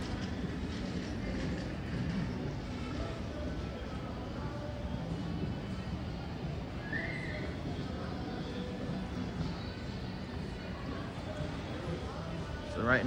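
A train at a Toronto station gives a steady, moderately distant low rumble with a brief metallic squeal partway through, while faint voices and station bustle fill the background.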